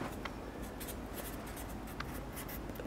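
Pen scratching across a thank-you card as a note is written, a close, continuous run of small scratchy strokes with brief pauses and no talking.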